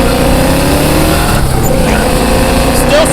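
A 1972 Chevelle with a 454 big block accelerating through the gears, a loud, close, continuous engine roar with rising pitch and a shift near the end, faint voices under it.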